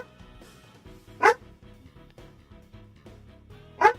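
Dog barking in a video game: two short, sharp barks spaced a few seconds apart, standing out clearly over a quiet bed of game music.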